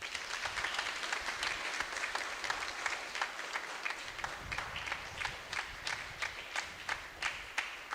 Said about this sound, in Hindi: सभी लोग जोरदार तालियों से फादर जी को धन्यवाद दें।